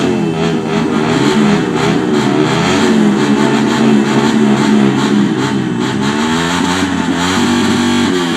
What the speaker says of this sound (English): Okay, motorcycle engine sounds. Too much revolutions per minute.